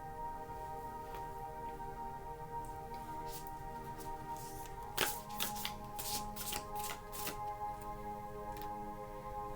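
Tarot cards are handled and shuffled, with quiet riffling and flicking at first that turns into a denser burst of crisp card snaps midway, over a steady background hum.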